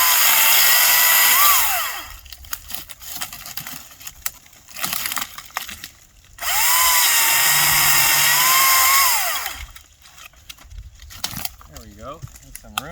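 An Echo DCS-2500T 56-volt battery electric chainsaw revs in two loud sustained bursts with a high whine, separated by quieter stretches of handling noise and brief clatter.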